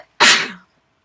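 A single sharp sneeze bursts out close to the microphone, loud and brief, followed by silence.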